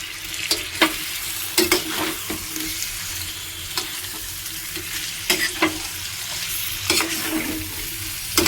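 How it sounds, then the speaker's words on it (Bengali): Whole small lote fish (Bombay duck) sizzle steadily in a hot pan as a spatula stirs them, with sharp scraping strokes recurring every second or two over the constant close frying hiss. "মাছগুলো দিয়ে এবার আমি নাড়িয়ে নেব।"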